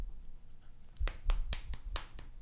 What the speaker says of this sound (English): then just have this finger snap